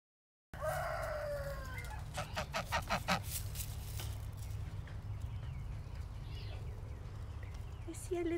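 Newly hatched goslings peeping: a rising call, then a run of repeated high chirps close by over a steady low hum, fading to a softer background.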